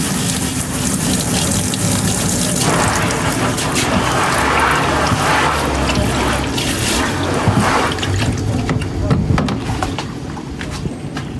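Tap water gushes steadily while a sponge is rinsed out during screen cleaning for screen printing. The flow is loud and continuous, with splashing surges and drips throughout.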